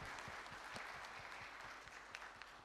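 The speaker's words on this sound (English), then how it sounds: "Can we please give them a huge round of applause?" Audience applause at a leadership event in India, steady dense clapping throughout, moderately distant and unbroken, with no voices over it.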